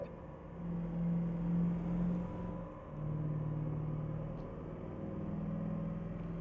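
A Mercedes-Benz C 63 AMG S engine in Euro Truck Simulator 2 drones steadily, then rises in pitch as it revs, a low humming rumble at moderate volume with no voices.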